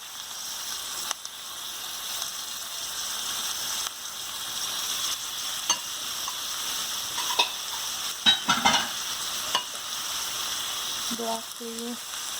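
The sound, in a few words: onions and spinach frying in hot oil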